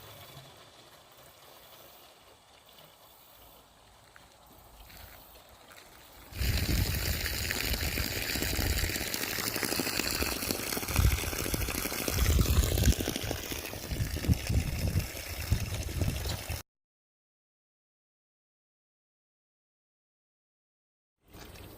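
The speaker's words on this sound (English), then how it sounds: "natural free flowing aquifer, right out of the ground, fresh, good water." Fresh water gushes from a natural free-flowing aquifer spring straight out of the ground in Georgia, a loud, close, continuous splashing rush that starts abruptly after a quieter stretch, then cuts to silence.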